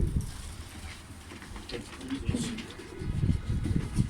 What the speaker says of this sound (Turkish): Yani hepsi uçan kuşlar. Kırmızı, sarısı, dönekler.